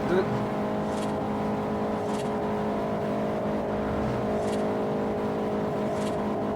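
A Bugatti engine drones steadily while driving in the Forza racing game, a constant loud whirring hum with faint periodic hiss bursts over it.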